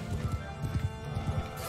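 A horse in Mount & Blade II: Bannerlord gallops with rapid rhythmic hoofbeats and gives a whinny, close and steady throughout.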